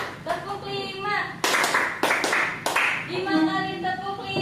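Classroom clapping game, a few sharp hand claps in a pattern between stretches of voices chanting along, claps loud and close.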